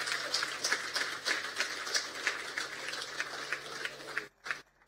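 An audience at a housing initiatives presentation in Roseau South, Dominica, gives Mr. Timmins a round of applause, moderate and somewhat distant with a loose rhythmic pulse, tapering off near the end.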